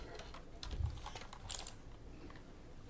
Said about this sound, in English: I'm gonna use my keyboard that was dedicated to my work machine